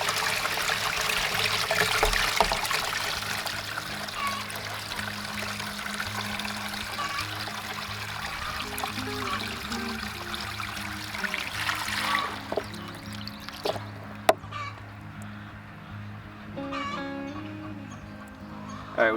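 Water flushes out of the line of a gravity-fed livestock waterer, a steady close trickle and splash that runs for the whole stretch and thins out toward the end.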